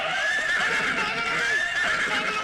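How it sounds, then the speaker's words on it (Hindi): A mare gives a loud, close, continuous whinny for a couple of seconds, the wavering cry filling the clip with nothing else heard over it. "ओए ला घोड़ी को ला"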